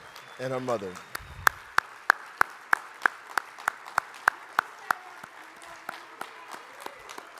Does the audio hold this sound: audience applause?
yes